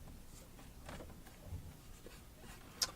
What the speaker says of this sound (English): They are writing now, thinking very hard.